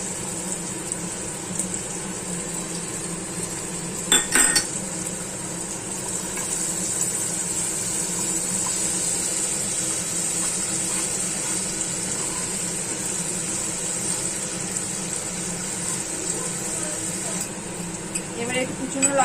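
Grated garlic and ginger paste with salt goes into hot mustard oil in a pan, giving a steady sizzle for the whole stretch, with a brief utensil clatter early on.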